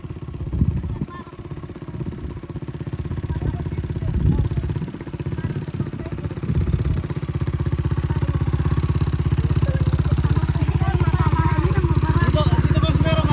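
A motorcycle engine runs steadily close by on a rough, hot lahar trail in Aeta country, a low rumbling drone that builds and holds, with brief voices and knocks early on.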